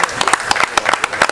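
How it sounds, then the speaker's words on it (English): An audience from New York claps in a short, scattered burst of hand claps, lively and close, at a men's retreat event. "So can I get New York to clap for me?"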